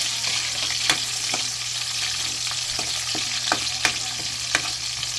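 Onions sautéing in a pan for a Filipino vegetable stir-fry, a constant close sizzle broken by several sharp clicks and scrapes of a stirring utensil against the pan, with no speech.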